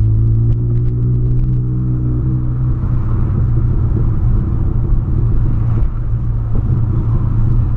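A 2008 Volkswagen Polo's engine pulls hard under acceleration, a loud, steady low rumble with rising harmonic tones near the start, heard alone without talk.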